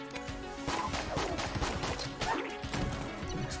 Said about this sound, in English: Explosion killed it.